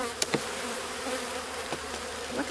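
Honey bees swarm around an opened hive after the honey harvest, a dense steady buzz filling the background with a few louder bees passing close to the microphone.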